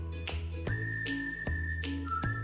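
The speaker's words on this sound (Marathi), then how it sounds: "कुकरचे 3 शिट्ट्या करून घ्यायच्या आहेत" A pressure cooker whistles while boiling potatoes on a kitchen stove, a steady shrill hiss broken by several sharp clicks and pulses.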